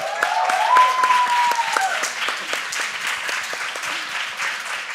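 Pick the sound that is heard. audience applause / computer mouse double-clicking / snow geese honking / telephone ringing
audience applause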